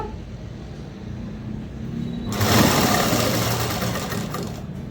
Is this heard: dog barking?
no